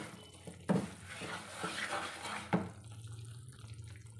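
Roasted semolina (suji) being mixed quickly in a pan for suji katli, giving a steady scraping, watery-sounding swish with a couple of sharper knocks of the spoon against the pan, close and moderately quiet.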